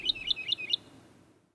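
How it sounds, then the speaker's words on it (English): Lark song, from a bird such as a skylark or woodlark: four quick, bright whistled chirps in an even rhythm, fairly faint and alone, with no talk. "Larks are perhaps better known for their beautiful songs, rather than their brown cryptic plumage"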